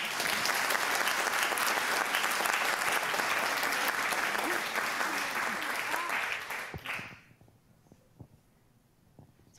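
Audience applause for students at a school board meeting, a dense burst of clapping that carries for several seconds before dying away into near quiet with a few stray claps.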